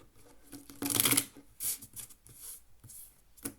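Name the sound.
shuffling playing cards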